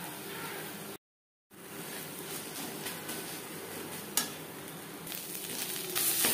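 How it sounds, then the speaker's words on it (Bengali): Ghatkol leaf paste being stirred in a pan over a low flame, a steady soft sizzle with scraping strokes of the spoon, close and continuous, broken by a brief gap of silence early on. "লো ফ্লেমে আরও 3-4 মিনিট নাড়াচাড়া করে দেব"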